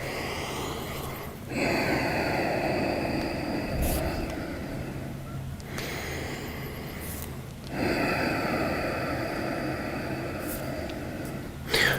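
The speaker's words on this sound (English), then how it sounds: "Take 5 more breaths here." Deep breathing during a wrist and ankle stretch, with two long, loud exhales, the first around two seconds in and the second near eight seconds, separated by quieter inhales in a slow rhythm.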